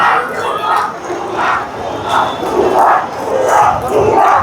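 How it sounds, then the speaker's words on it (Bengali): Students chant slogans in rhythmic waves at a protest in Uttara Diabari, with police lined up nearby; a dense crowd of voices rises and falls in loud, repeated shouted bursts. "ছাত্রদের স্লোগান"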